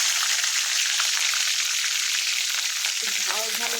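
Green chillies dropped into hot oil for a quick cabbage fry, a loud continuous crackling sizzle close up, a brief voice near the end.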